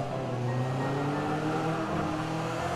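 A Ford Escort RS1800 in the racing game Forza 5 revs hard as its tyres spin for grip, a steady loud engine drone with layered harmonics running throughout.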